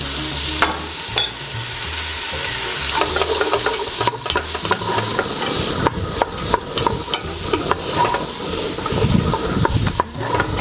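Chopped celery and carrot sizzle in a pot with bacon and onion, a steady frying hiss broken by the scrape and clatter of stirring, close and with no talking.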